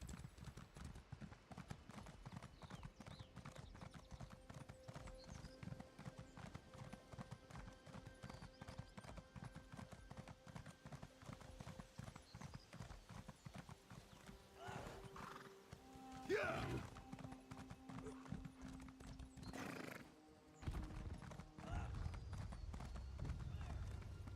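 Horse hooves clip-clop in a steady fast rhythm in Elder Scrolls Online, close and continuous throughout, with a few whinnies and ringing tones partway through and a voice talking over the hoofbeats.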